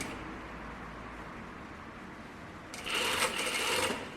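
A sewing machine starts stitching a button-up shirt after a quiet stretch of room noise, breaking into a short, loud, rapid run near the end.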